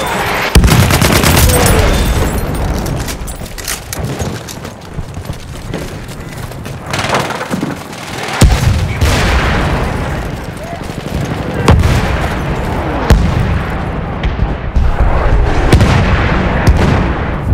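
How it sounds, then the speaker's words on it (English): An enemy artillery barrage in Battlefield 1, the World War I shooter: heavy booms and crashing explosions mixed with scattered gunfire, loud and continuous throughout, with voices calling out beneath the din. "Wait for the enemy artillery barrage to stop firing."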